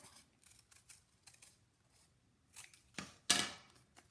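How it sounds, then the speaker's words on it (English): Scissors snipping through folded paper for a lion craft, a series of short soft cuts that build to two louder, crisp snips near the end, close up and without talk. "take a piece, fold it in half, and we're just going to make a U. So cut that out."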